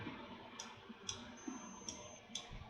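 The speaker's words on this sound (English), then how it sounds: "So we click on the folder" Computer mouse clicks while a folder is opened in 3D modeling software, four light, crisp clicks spaced about half a second apart, close and clear over faint room hiss with no talking.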